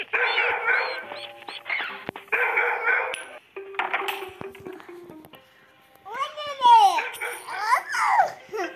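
A guard dog in the video game Robbery Bob gives several short bursts of barking. The barks are separated by brief gaps, followed by other game sound effects and a voice.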